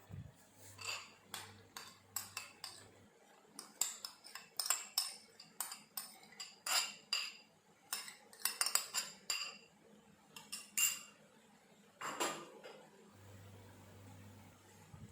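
A utensil scrapes and clinks against a pan while carrot halwa cooks in desi ghee, a series of sharp, irregular metallic taps and scrapes, close and fairly quiet, with a low hum at the start and end.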